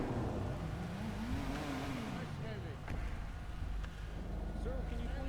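Car engine idling steadily in a VR police training scenario, a continuous low rumble with a pitch rising and falling, under talk.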